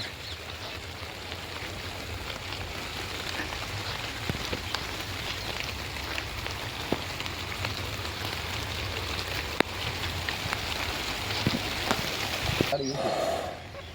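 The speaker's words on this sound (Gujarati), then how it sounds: "વરસાદ આવી ગયો મિત્રો." Heavy monsoon rain pours over a cotton farm in Gujarat, a dense, even hiss of drops on surfaces holding steady throughout, with voices faintly mixed in.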